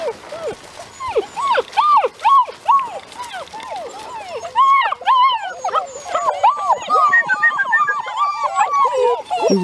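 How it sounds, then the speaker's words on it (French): A small puppy whimpers and yips in a rapid, repeated series of high, rising-and-falling cries, close and fairly loud, with a second puppy joining in partway through, outdoors on gravel. "C'est quoi ce petit chiot qui couine là?"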